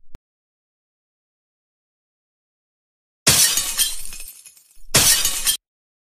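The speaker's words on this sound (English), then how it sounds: "Now let's break his TV." A TV screen being smashed, glass shattering in a loud crash followed by a second shorter burst of breaking glass, heard alone after a stretch of near silence.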